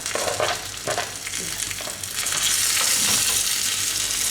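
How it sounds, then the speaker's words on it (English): Chopped coriander sizzles and fries in hot ghee, a close, steady crackling hiss with a few stirring clatters early on, growing denser toward the end without any talking. "I'll just let the ghee touch the coriander, that is the cilantro"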